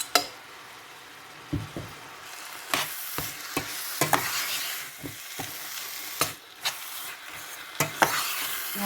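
Spoon stirring and mashing a thick, melting mixture in a pan with cardamom added, scraping strokes at irregular intervals over a soft background sizzle, close and fairly quiet, with no voices.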